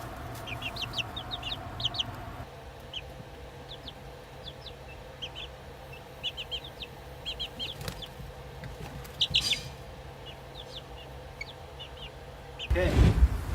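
Two-week-old chicken chicks chirp in a brooder in a steady scatter of short high peeps, fairly close, with a low constant hum running beneath and a brief louder rustle near the end.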